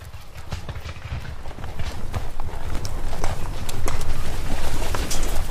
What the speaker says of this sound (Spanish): Soldados a caballo entraron en el agua matándolos con los sables.